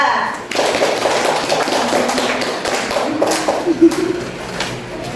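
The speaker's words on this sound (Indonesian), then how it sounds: "Beri aplaus untuk kelompok 2." A classroom audience applauds a student group after a school presentation, with dense, steady clapping that fills the room and a voice briefly heard over it.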